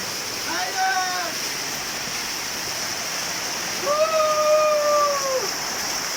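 A waterfall in Bagh, Azad Kashmir, roars in a constant broadband rush while voices speak briefly over it.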